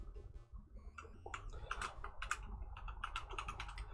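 Someone types code on a computer keyboard, a quiet, close burst of irregular key clicks that starts sparse and quickens into a rapid patter, with low room hum underneath.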